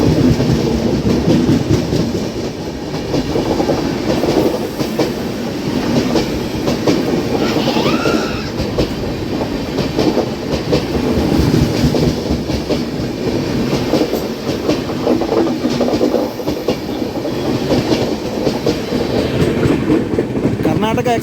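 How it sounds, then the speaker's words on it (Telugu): A Bengaluru–Bangarapet MEMU train running on the rails near Bengaluru Cantonment, a loud, continuous rumble with rhythmic clickety-clack of wheels over joints, heard close up throughout. "Bengaluru బంగారుపేట్ MEMU train"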